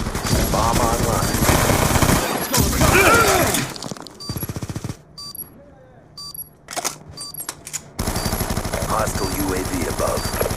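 Rapid automatic gunfire and scattered shots from a Call of Duty match on the Nuketown 2025 map, loud bursts broken by brief gaps, with players shouting over the action.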